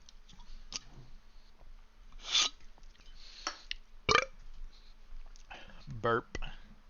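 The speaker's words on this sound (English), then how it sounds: "Burp." A burp from a person rebuilding a Minecraft server after sipping a drink, one short throaty belch in a quiet room among scattered clicks and small handling noises.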